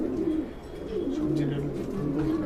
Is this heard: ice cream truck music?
no